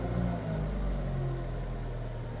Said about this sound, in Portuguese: Vou acelerar um pouquinho.